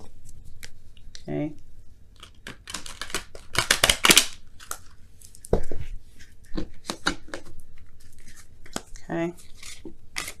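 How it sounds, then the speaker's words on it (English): Tarot cards are shuffled during a love reading, giving repeated crisp riffling and snapping bursts in uneven clusters, close and moderately loud, with a voice speaking briefly between them. "I want to shuffle it a little bit differently this time."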